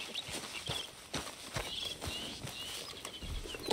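Horse hooves clip-clop at a steady walking pace in Red Dead Redemption 2, soft and moderately close, with no voices over them.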